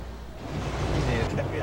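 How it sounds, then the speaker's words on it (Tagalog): Floodwater surges like sea waves against vehicles passing along a flooded avenue in San Fernando, Pampanga, during monsoon rains, making a steady, close rushing wash that swells slightly louder partway through, with faint voices in the background. "Parang alon sa dagat ang tubig na humahampas sa mga sasakyang dumaraan sa General Hizon Avenue"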